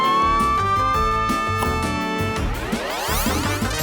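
A loud cartoonish fire truck siren wails with rising and falling tones over bright music and sound effects in a children's vehicle puzzle game.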